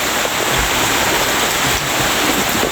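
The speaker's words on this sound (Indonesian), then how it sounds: "Hujan." Steady, dense rain pours down over a transmigration settlement in North Kalimantan, a continuous loud hiss with no break and no voices.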